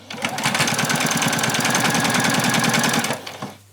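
A sewing machine stitching along the bottom hem of an apron, a fast, even mechanical chatter that runs for about three seconds up close, then stops.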